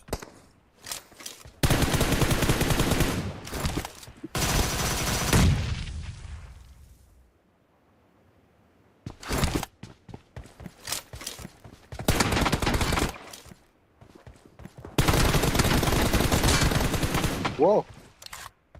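Bursts of automatic gunfire in the video game PUBG, several loud rapid volleys separated by quieter gaps and brief single shots, with an explosion-like boom that trails off.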